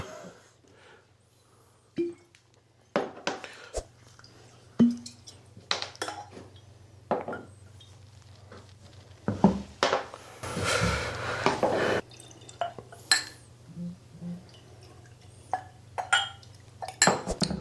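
A whisky bottle with a solid glass topper is opened and drams are poured, with scattered glassy clinks, a stopper's knock and liquid pouring in bursts, close and clear amid quiet pauses.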